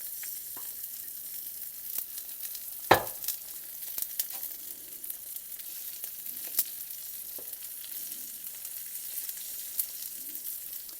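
Rice-crusted trout fillets searing in cooking oil in a pan, a steady soft sizzle throughout with an occasional sharper crackle or pop, heard alone without talk.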